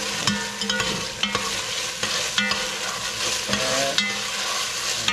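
Green onion stir-fried with Thai chili chicken in a hot pan, a steady sizzle broken by regular scraping and clattering stirs, close and fairly loud, with no voices.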